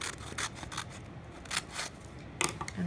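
Scissors snip paper along diagonal lines for a pinwheel, a quick series of close, crisp cuts with short pauses between them.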